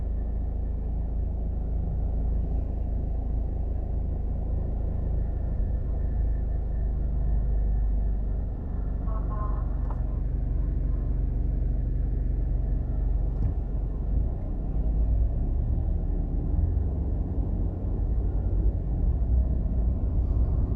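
Steady low road rumble from a car driving toward the 3 Miles overpass from downtown Kingston, Jamaica, near Spanish Town Road and Greenwich Farm, a continuous interior drone with little variation and no talk.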